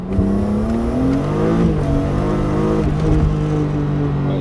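A BMW M3 E36 engine revs loudly and steadily up close, its tone rising and falling through a sustained run of throttle with no talking over it.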